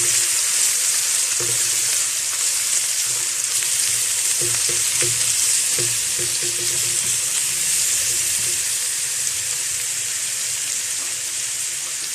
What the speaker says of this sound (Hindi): लहसुन को थोड़ा सा फ्राई कर लेते हैं।